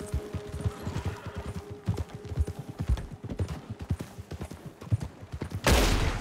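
Gunfire in the video game Red Dead Redemption 2: a single loud, sharp shot bursts out near the end after a steady run of horse hoofbeats clip-clopping throughout.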